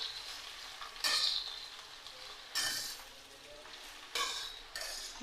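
Gourd leaves and vegetables frying in a pan, first parboiled in hot water, give a soft sizzle that rises in four sharp bursts as the food is stirred and tossed, with no talking.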